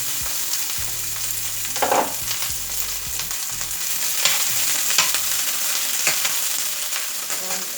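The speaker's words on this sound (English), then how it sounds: "And now let's throw in the cauliflower." Cauliflower dropped into hot vegetable oil in a stir-fry pan, with a steady close sizzle and frying hiss, a brief clatter as the pieces go in, and occasional stirring scrapes.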